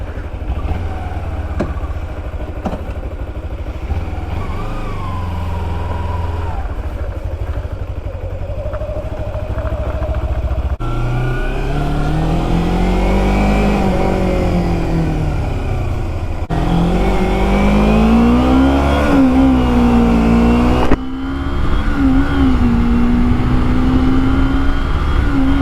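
A 2011 Kawasaki Ninja 250R motorcycle being ridden, its engine droning steadily and rising in pitch through several gear shifts, loud and close with wind noise.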